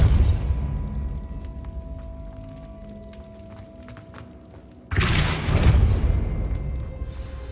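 A Depulso force spell cast in Hogwarts Legacy lands as a sudden loud burst with a thumping boom, following several seconds of quiet ambient game sound.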